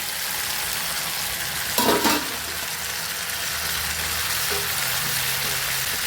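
Pirandai (adder's creeper) frying in a pan with tomato and salt, a continuous close sizzle with one brief louder burst of stirring partway through, otherwise even and without talk.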